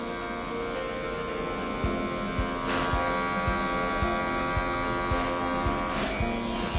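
Electric clippers buzz steadily as they trim a poodle's tail, a close, continuous motor hum with a faint rhythmic ticking pattern and brief shifts in tone as the blades move through the coat.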